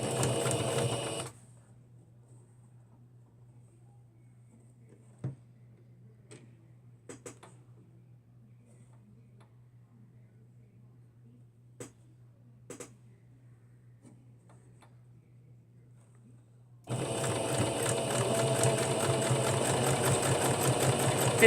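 Sewing machine stitching a pocket onto a fabric ironing board caddy, its steady motor hum running for most of the stretch between louder noise at start and end, with a few faint clicks.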